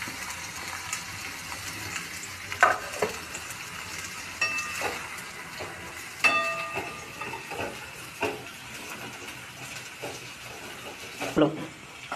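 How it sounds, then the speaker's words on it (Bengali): Onions frying in hot oil for biryani make a continuous hiss, broken by sharp clinks and scrapes of a utensil against the pan, with faint speech in the background. "তেল গরম হয়ে গেছে, এবার পেঁয়াজটা ছাড়বো।"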